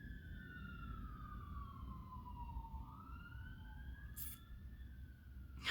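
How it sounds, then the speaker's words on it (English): A fire engine siren from a nearby fire station wails faintly in the distance, its pitch sweeping slowly down and back up over a low background hum. "I hope you can't hear that siren."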